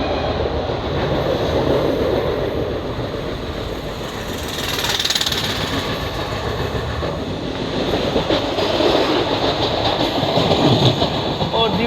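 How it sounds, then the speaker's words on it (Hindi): Loud, continuous rumble and rattle of two passenger trains crossing, the Koyna Express passing the Rajgir–Lokmanya Tilak Janata Express near Diva Junction, with dense wheel clatter and wind rush throughout and no talk. "यहाँ पे राजगीर लोकमान्य तिलक जनता एक्सप्रेस की हमारी क्रॉसिंग हो रही"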